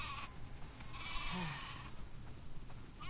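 Sheep bleat in The Last of Us Part II, a faint animal call rising once over a steady low ambient bed of wind and rumble, with no talking.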